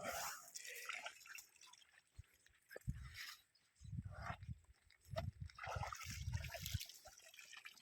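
An elephant named Pepple drinks in the water under a hot sun, with soft irregular drips and splashes, a few low sloshing thumps, and a voice speaking faintly in the background.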